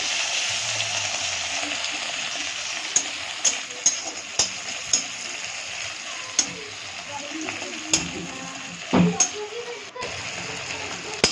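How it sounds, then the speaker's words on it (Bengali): Ginger stirred with tomatoes in a hot frying pan for a plain potato curry: steady close sizzle with sharp spoon scrapes and clicks against the pan at irregular intervals. "এবার আদাটা দিয়ে একটু ভালো করে নেড়ে নেব।"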